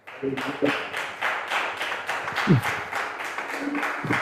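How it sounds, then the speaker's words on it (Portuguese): A church congregation claps loudly and rhythmically in unison during a sermon, regular strong beats filling the room, with brief voices and shouts mixed in. "Aplaude bem forte a Ele."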